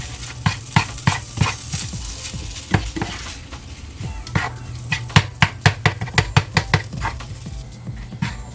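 Nasi goreng fried rice being stir-fried in a hot pan, a continuous sizzle under repeated sharp scraping and tapping of a spatula against the pan in quick rhythmic strokes, close and fairly loud, no talking.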